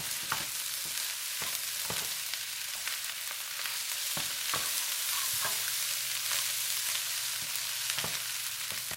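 Salmon fried rice with soy and oyster sauce is stir-fried in a pan: a continuous close sizzle with repeated sharp scrapes and taps of the utensil against the pan, and no talking.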